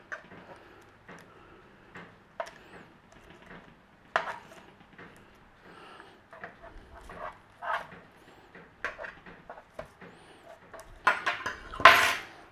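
Fennel pieces are turned over on a roasting pan, giving a scattered series of light metallic taps, clicks and scrapes, close and mostly quiet, with a louder clattering burst near the end.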